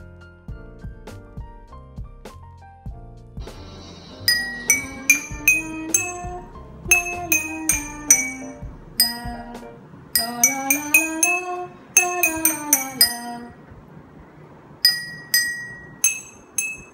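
Water glasses tuned as a xylophone and struck in turn play a melody of bright, ringing glassy notes, after a few softer taps at the start, with no talking.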